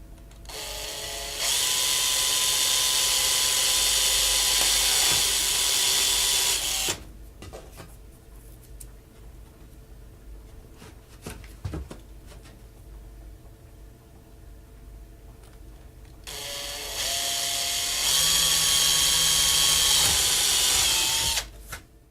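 A power drill bores through plywood in two loud, close bursts of steady whine lasting several seconds each, separated by a quiet stretch with faint knocks and handling noises.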